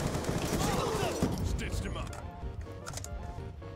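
Rapid gunfire from Call of Duty Mobile played on a phone, crackling in dense bursts through the first half and then thinning out, with a person talking over it.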